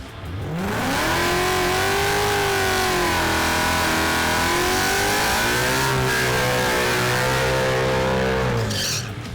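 A 2018 Ford Mustang, the naturally aspirated Steeda Silver Bullet drag car, revs loud and close, the engine climbing and holding high for several seconds, dipping slightly, then surging again before dropping off at the end.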